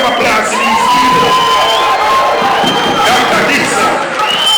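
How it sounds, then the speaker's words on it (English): A large crowd at a free health care event for the JAHJAH Foundation cheers and shouts loudly, with whoops and high children's voices rising over continuous roaring noise close by. "the world give me a round of applause to these people"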